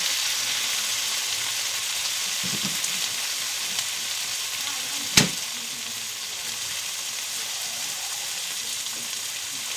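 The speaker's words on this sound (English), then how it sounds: "So we're putting in our chopped tomatoes" Chopped tomatoes going into a hot pan with chorizo keep up a steady, close frying sizzle, broken by one sharp clack around the middle.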